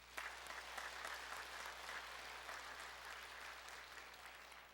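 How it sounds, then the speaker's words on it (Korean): Church congregation giving a round of applause to God during a Bible Sunday service: sustained, even clapping from many people, quiet and somewhat distant, with no break. "하나님께 영광의 박수 한번 합시다."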